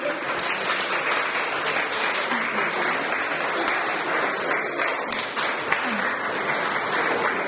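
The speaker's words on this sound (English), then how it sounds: "Round of applause, please." Audience applause at an art gallery opening, a full, even roar of many people clapping that holds steady throughout, with a faint voice or two underneath.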